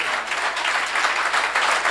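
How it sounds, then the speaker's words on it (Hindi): A congregation at an Urdu-Hindi sermon breaks into sustained applause, a thick, even roar of many hands clapping together, loud and unbroken throughout. "खोल के तालियां बजाओ यीशु मसीह लिए"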